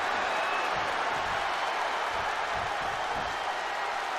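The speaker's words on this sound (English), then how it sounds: "As you hear this crowd, tag team wrestling." A wrestling arena crowd in WWE 2K22 cheers during a tag team match, a steady dense roar of noise held at even volume throughout.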